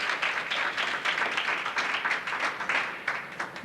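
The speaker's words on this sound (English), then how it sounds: "let's give her a round of applause" An audience at a Pan-Afrikan celebration claps for a Dean's List student, a steady, fairly dense round of applause from a crowd that holds level for a few seconds.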